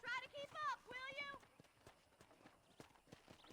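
Horse hooves clip-clop in Red Dead Redemption as a rider urges the mount on; a steady, fairly soft patter of hoofbeats runs throughout, with a voice speaking over the first part.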